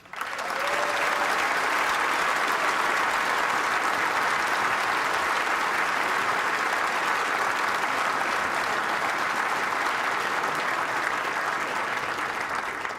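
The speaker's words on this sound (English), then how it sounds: "please your applause for the 2 finalists, but also the 32 players that entertained us over this championship" A large arena audience applauds the finalists at the 2008 World Snooker final, producing dense, sustained clapping that holds steady at full level for the whole stretch, with no voice over it.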